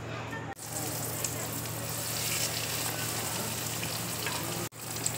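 Snacks slipped one by one into hot oil in a wok fry with a loud, continuous crackling sizzle, interrupted by two brief cuts.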